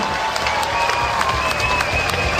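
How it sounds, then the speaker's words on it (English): A ringside crowd at the Woodstock Fight for Life boxing event, after the Brian Minto vs Shane Cameron fight, claps and cheers in a loud, continuous roar with whistles carrying over it throughout. "One more round of applause, please"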